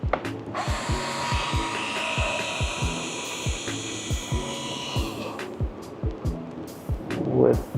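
A power screwdriver on its lowest setting backs screws out of a Talos T60X drone arm, with a fast, even series of ratcheting clicks and a whirring motor, close and fairly quiet.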